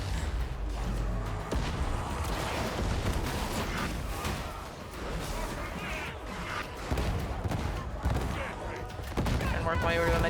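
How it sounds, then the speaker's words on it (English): Sniper rifle fire and other gunfire in Warhammer 40,000: Darktide, a dense run of sharp cracks and booms with heavy combat noise throughout, and voices talking in the mix. "We got snipers on the field."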